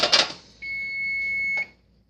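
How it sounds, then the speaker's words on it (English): A kitchen timer set for cooking rice gives a single steady electronic beep of about one second after a short clatter, clear and close in an otherwise quiet room. "the timer's going off for our rice"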